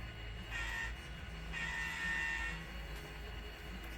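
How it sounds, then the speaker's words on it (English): A model railroad train horn during an operating session, sounding in two separate blows, each lasting about half a second to a second, over a low steady hum. "I believe it's just two horn blows."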